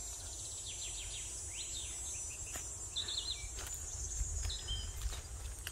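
Loud cicadas drone in a continuous high-pitched buzz outdoors on a nature hike, steady throughout, with faint chirps and rustling footsteps beneath.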